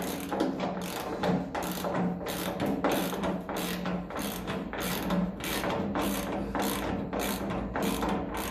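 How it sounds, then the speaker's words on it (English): Socket ratchet working on bolts of a 1954 Ferguson 20 TEF diesel tractor, a rapid series of rhythmic clicking ratchet strokes repeated steadily and close up, with no talk. "let's get a few sockets at that now and see if those bolts want to come out"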